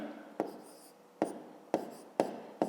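A pen writes on paper during a fifth-grade maths exercise, a few sharp close strokes and taps in an irregular rhythm, alone in a quiet room.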